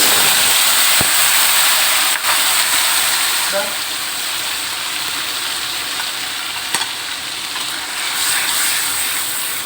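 Loud, steady sizzling of chili frying in hot oil, with a few sharp clinks of a utensil against the pan.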